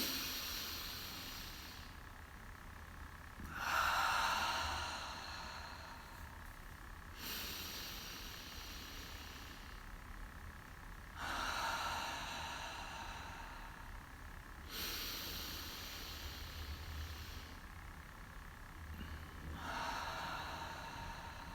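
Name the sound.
slow guided breathing, inhale hold exhale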